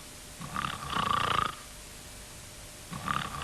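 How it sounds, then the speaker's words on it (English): Mr. Noisy, a cartoon man from the 1978 Mr. Men series, snores asleep in bed in a house on a hill, two rough grunting snores a couple of seconds apart, fairly close and moderately loud with quiet breathing noise between. "He was snoring."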